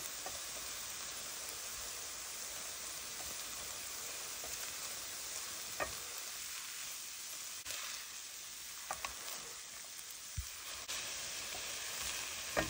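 Tomato paste sizzles steadily in a hot pan, a constant hiss broken by a few soft clicks and taps.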